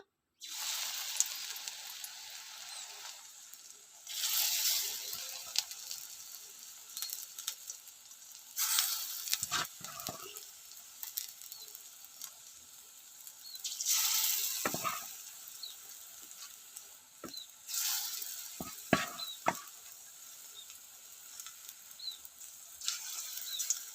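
Hinche leaf fritters (bora) fry in a pan with steady close sizzling and bubbling, broken by occasional scrapes and taps of a spatula as more fritters are added.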